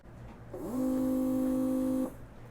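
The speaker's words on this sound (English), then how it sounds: "I'm going to insert the red thread into the looper, press the presser foot" A BERNINA L850 air-threading overlocker blows thread through its lower looper, giving a steady tonal whir that rises quickly, holds evenly for about a second and a half, then cuts off.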